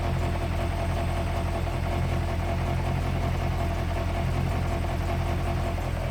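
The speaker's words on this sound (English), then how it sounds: "There's a vibration in the exhaust under here." A 1972 Range Rover engine idles steadily with a low, constant rumble and a buzzing rattle from a loose exhaust baffle vibrating throughout, with no talking.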